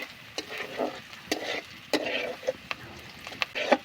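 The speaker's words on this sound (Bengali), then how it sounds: "এইভাবে নেড়ে চেড়ে আমি রসুন আর আদাটা ব্রাউন কালার করে নেব।" Garlic and ginger frying in a pan for a Bengali drumstick-leaf and lentil dish, stirred with a spatula, giving repeated scraping strokes over a soft, steady sizzle, close and moderately quiet.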